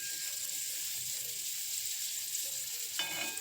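A sweet sugar-filled paratha frying in mustard oil on a pan gives a continuous bright, hissing sizzle from start to end, with a short burst of louder crackle near the close.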